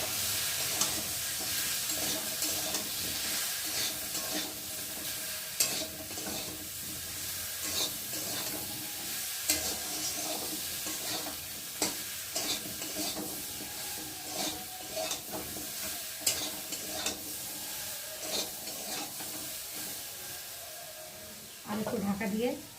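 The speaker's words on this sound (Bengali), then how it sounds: "আদাটা দিয়ে দেবো। ভালো করে একটু কষিয়ে নেব।" Chopped ginger sautéing in a pan for a kolmi shak curry, producing a steady sizzle and hiss with frequent stirring scrapes and clatters, close up, while someone speaks over the cooking.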